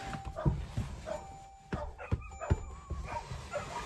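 Several dogs bark and yip in short scattered bursts, fairly near but soft, with a quiet outdoor background and little talk.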